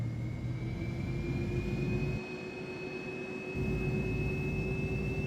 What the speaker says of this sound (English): We're going to be taxiing to the gate via November.